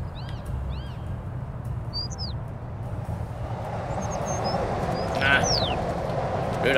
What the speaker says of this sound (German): Da sind noch Vögelchen.